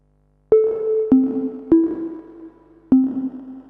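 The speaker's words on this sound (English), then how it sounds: "all the way around, we get more kind of reverb type effects." Four sharp plucked guitar notes through an EarthQuaker Devices Afterneath reverb pedal, each followed by a long, washy reverberant tail that rings and blooms before the next attack.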